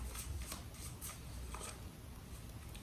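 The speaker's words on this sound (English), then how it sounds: "All right, one more shuffle." Tarot cards being shuffled quietly, with soft riffling bursts repeating in quick succession over faint background hiss.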